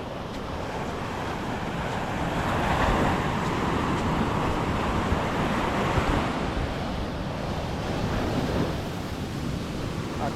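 Sea waves wash steadily onto an eroding shore where the ocean has swallowed a coastal road, a continuous broad roar of surf with gusts of wind, close and fairly loud, with no voices.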